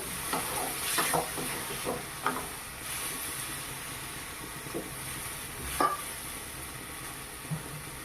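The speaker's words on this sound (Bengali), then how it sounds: "একটু নেড়ে চেড়ে নিলাম" Boiled potato and ridge gourd stirred in a pan with a little water, giving a steady low sizzle broken by a few sharp scrapes and clicks of the spoon, close by and without talk.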